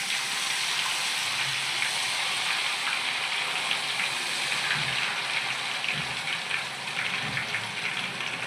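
Ghevar batter poured in a thin stream from a height into hot oil, a continuous loud bubbling, hissing fry that holds steady throughout.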